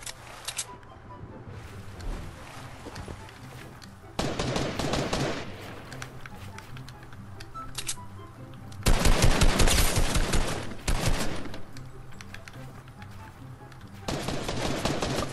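Bursts of rapid gunfire in the Fortnite Chapter 2 video game, fired underwater, arriving in several loud clustered volleys separated by quieter gaps with faint clicks.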